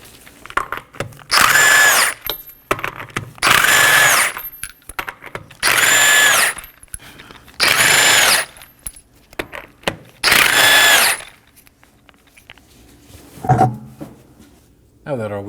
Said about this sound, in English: I'll be using a 21mm socket to remove the 5 lug nuts.